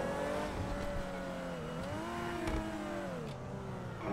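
A new Vegner car in GTA 5 drives at speed, its engine revving steadily with pitch rising and dipping. A thin turbo whistle runs above the engine, and no one talks.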